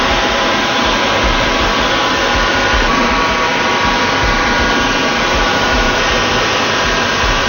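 A grinding wheel cuts into a crystal baptismal font, a loud, steady, unbroken whirring grind that holds constant throughout with no talking.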